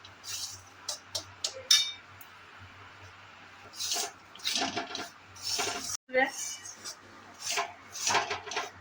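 A spoon scrapes and rubs through ripe mango filling in a pan over low gas, in irregular bursts of stirring with a few light clinks, under intermittent talk.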